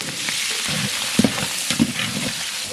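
Onions hitting hot oil with mustard seeds, curry leaves and green chillies for an egg gravy, a steady close sizzle with a few soft stirring clinks in the pan, no talking.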